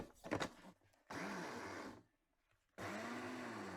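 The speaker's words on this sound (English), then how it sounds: "put them into the blender and blend them up into a fine powder" An electric blender grinding dried comfrey leaves into powder whirs in two loud bursts with a pause between them, a coarse grinding roar after a few brief clatters at the start.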